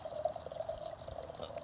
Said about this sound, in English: So this one is a Syrah, and we're gonna go ahead and pour it.